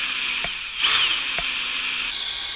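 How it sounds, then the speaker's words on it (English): An electric drill spins steadily to untwist a length of scrap wire, giving a continuous close whirring hum with a few light clicks and a brief louder surge in the middle. "We're gonna use electric drill to untwist the wire."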